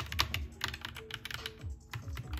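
Rapid typing on a Roccat Vulkan Pro gaming keyboard with Cherry Red switches: a quick, uneven run of close, crisp key clicks and thocks with no talking.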